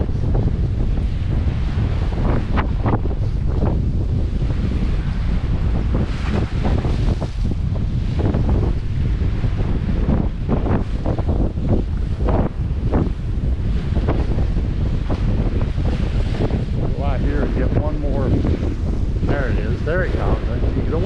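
Strong wind on the Lake Huron shore roars and buffets the microphone, continuous and loud throughout with gusting surges and possible surf beneath.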